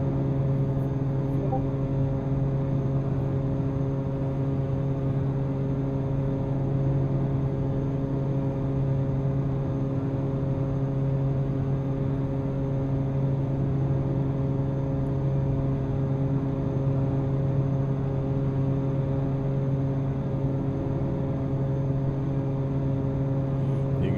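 Steady droning aircraft engines at idle during a descent in X-Plane 11 flying an EV-55 Outback, a constant tonal hum with layered harmonics, unchanging and close for the whole stretch.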